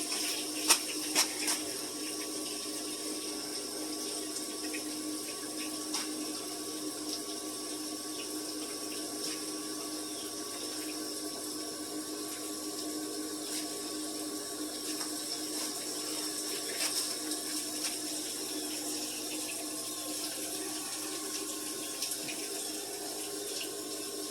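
Washing machine filling with water for a load of towels: a steady, moderately quiet rush of running water and a faint pump-like drone continue unbroken, with a few small clicks near the start and no talking.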